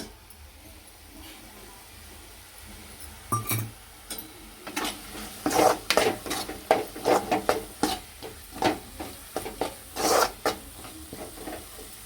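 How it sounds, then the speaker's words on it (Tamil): Turkey berries are scraped and stirred into frying masala in a hot pan, a series of rasping strokes with a faint sizzle underneath, growing busier after a quiet start. "இப்போ வதக்க வச்சுக்கிற சுண்டைக்காவை சேர்த்துக்கலாம்"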